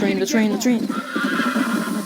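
A horse in the video game Red Dead Redemption gives a loud, close whinny with quick clip-clopping hooves, and a voice is heard briefly.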